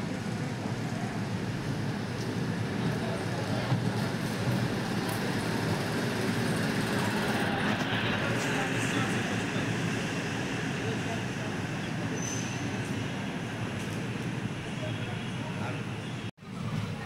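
A Ramanathapuram to Tambaram express train pulls out of Tiruvarur Junction, giving a steady, loud rolling rumble with broadband rail noise throughout and a brief dropout near the end.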